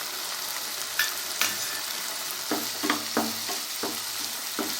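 Ginger and garlic sautéing in a pan for tomato chutney, a steady close sizzle broken by several sharp stirring scrapes and clicks of a spoon, no voices.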